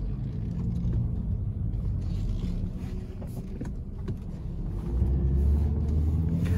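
A Chevrolet Cruze 1.4 turbo pulls away, its steady engine rumble and road noise filling the cabin and swelling slightly louder toward the end.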